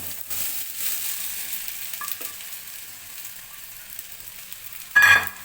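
Soaked sago is tipped into a pan of fried green chillies for sabudana khichdi, giving a quiet background sizzle ending in a sudden brief burst of loud hissing, close by, with no voices.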